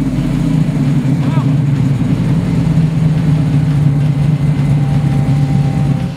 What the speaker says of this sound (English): Here's my good friend Ed Farrell, who's going to go ahead and fire this Mustang up for you